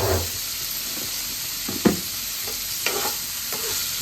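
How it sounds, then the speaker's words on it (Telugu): Cubed paneer frying in oil in a home kitchen, turned gently until golden brown: a steady broad sizzle and hiss runs throughout, with a few soft stirring scrapes and clinks on top, close and moderately loud. "కొంచెం గోల్డ్ బ్రౌన్ వచ్చిన వరకు అలా ఫ్రై చేసుకోవాలి."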